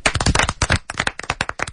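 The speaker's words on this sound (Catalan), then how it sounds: "Un aplaudiment per vosaltres." Children at a school event applaud together, a dense, lively burst of many small hands clapping at close range, rising and falling in uneven waves with no talk over it.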